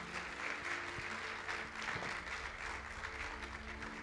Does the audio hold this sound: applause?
yes